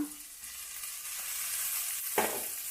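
Tomato sautéing in hot oil in a pan for capsicum rice gives a soft, steady sizzle with a sharper burst near the end, likely from stirring.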